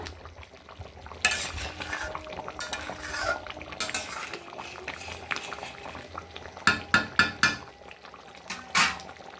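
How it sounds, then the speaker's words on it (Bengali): A spoon stirs chicken curry simmering in coconut milk in a pan, with a low bubbling base broken by several sharp metal scrapes and clinks, a quick run of four near the end, and no talk. "আস্তে আস্তে কিন্তু এরকম নাড়বে তোমরা"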